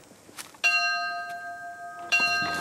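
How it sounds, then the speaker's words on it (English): A single large bell on a Cuban plantation sounds the morning call, struck twice with a clear metallic clang that rings on and decays slowly between strikes, loud and alone. "Every morning, except Sunday, the bell rang at 6 o'clock"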